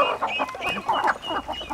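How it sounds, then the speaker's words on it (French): Hens clucking in a poultry coop, a quick run of close, lively clucks and squawks with no talk. "Nous avons 3 coques et 20 poules."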